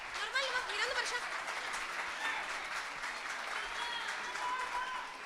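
An audience at a singing competition semifinal applauds young singers with steady, dense clapping and some crowd noise, while voices talk over it.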